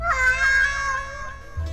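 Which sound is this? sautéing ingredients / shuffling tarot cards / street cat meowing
street cat meowing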